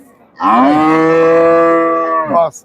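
A thin dairy cow at the Chandina cattle market gives one long, loud, close moo lasting about two seconds, with a falling tail at the end.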